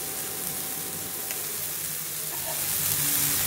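Paneer tikka masala frying in a pan, a steady close sizzle with light crackles and soft stirring, growing slightly louder near the end, with no talking.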